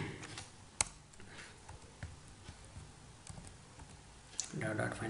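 Typing code on a computer keyboard: quiet, irregular key clicks and taps at a steady pace, faint and close, with a couple of sharper key strikes and a soft background hiss.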